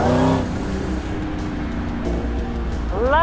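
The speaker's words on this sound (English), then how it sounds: "Love the sound of this engine." A Dodge Challenger muscle car engine revs up and settles into a steady drone, then climbs in pitch again at the end, close and fairly loud.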